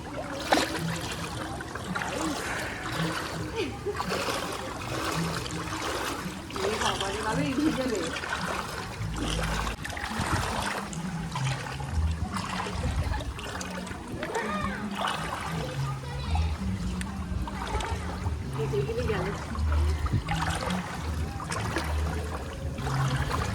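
People wade through chest-deep flood water with continuous sloshing and splashing. Voices talk throughout, and the water churns steadily close by.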